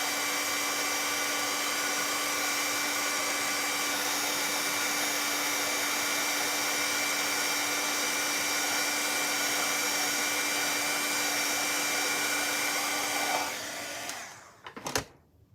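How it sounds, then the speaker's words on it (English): A hair dryer blows steadily on glued craft inserts for Easter decorations, a loud constant whir running about thirteen seconds before switching off and winding down with a couple of handling clunks. "I'm just gonna dry these again so I can glue them down right away"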